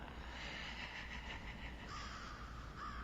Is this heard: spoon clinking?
no